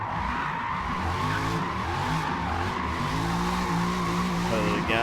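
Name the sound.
drift car tires skidding in Forza Motorsport video game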